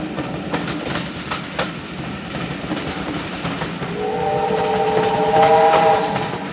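A steam train on the Churnet Valley Railway beside the Caldon Canal rumbles along with a few sharp chuffs early on, then its whistle sounds, steady and fairly close, toward the end.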